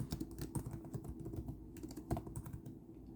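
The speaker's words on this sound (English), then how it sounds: "if I can type for you" Computer keyboard typing, a steady run of quick, close key clicks with irregular rhythm and no voice, fairly quiet throughout.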